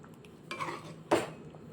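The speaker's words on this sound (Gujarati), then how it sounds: "બધું જ આપણે મિક્સ કરી દઈશું" A spoon scrapes and clanks against a pan while vegetable gravy Manchurian is stirred with fresh coriander, two short close metallic strokes over a quiet background.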